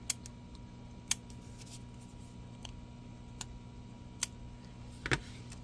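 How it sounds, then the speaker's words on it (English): Scissors snip the ends off a sticker for a paperclip bookmark craft: a handful of sharp, separate clicks and cuts spaced across the stretch over a quiet, steady room hum, with no talking. "We'll just flip it over and trim these ends off."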